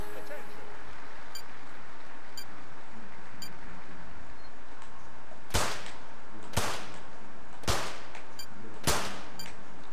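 Four sharp, evenly spaced shotgun-style gunshots in an Olympic shooting event from the London 2012 video game, each a loud crack with a fading tail over a quiet arena hum.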